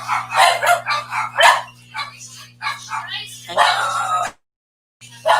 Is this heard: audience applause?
no